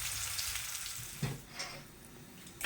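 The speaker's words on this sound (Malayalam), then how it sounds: "ആ ഒരു സമയം കൊണ്ട് നമ്മൾ സവാള, അതുപോലെ അണ്ടിപ്പരിപ്പ്, മുന്തിരിയൊക്കെ വറുത്തെടുക്കുന്നുണ്ട്." Onions, cashew nuts and raisins frying in oil, a soft continuous sizzle with a few stirring clatters and a sharper knock at the end, fairly quiet with no talking.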